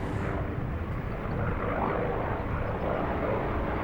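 A T-28 Trojan aircraft drones steadily overhead at an airshow, a continuous broad engine roar with no break and no voices.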